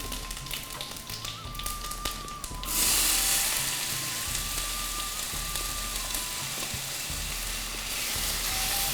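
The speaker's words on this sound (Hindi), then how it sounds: "हल्के से फ्राई करेंगे" Potatoes fry in a pan with a steady, bright sizzle that swells suddenly partway through and then holds, loud and close. Light tapping and a faint tone sit under it, with no talk.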